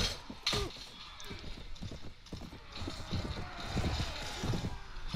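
Horse hooves clatter in the game Mount & Blade Brytenwalda, a busy run of clip-clop beats under a loud wash of battle noise, with a brief whinny near the start.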